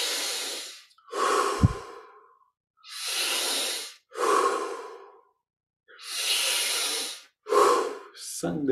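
Deep, slow breaths during a guided yoga meditation, with long audible inhales and exhales alternating in a steady rhythm and short silent pauses between them, heard close and alone.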